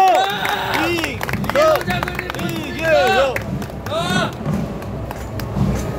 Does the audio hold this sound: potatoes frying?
no